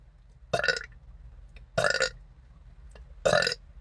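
Three loud, close burps spaced about a second apart, each short and throaty, after drinking Sprite with lavender syrup; quiet background between them.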